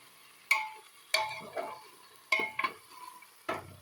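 Jackfruit pieces fried and stirred in a pan, with sharp scraping clatters of a spatula at irregular intervals over a quiet sizzle, no talk.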